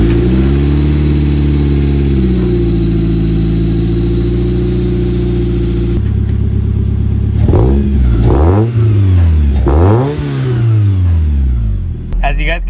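A Toyota MR2 SW20 with a custom Magnaflow exhaust idles steadily, then revs sharply several times in quick bursts, the exhaust note rising and falling loudly and close by.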